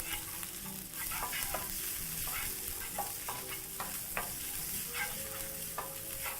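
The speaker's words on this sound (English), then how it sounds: "so just mix everything together in the pan and proceed to allow your garlic and ginger to get some color" Garlic and ginger stir-fried in a pan with beans, steady close sizzle under repeated clicks and scrapes of a utensil mixing, with no voices.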